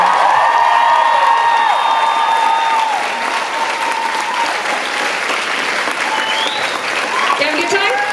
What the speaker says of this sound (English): Please, a huge round of applause for Mr.